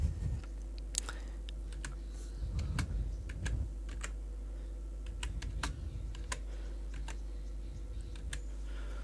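Computer keyboard keys are tapped in short, uneven bursts of crisp clicks over a steady low hum, fairly quiet and close, with no talking.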